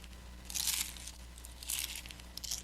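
Kettle corn snacks are chewed close up in a few crunchy, crinkling bursts separated by short pauses, with a low steady hum underneath.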